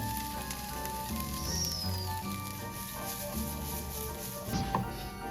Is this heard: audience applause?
no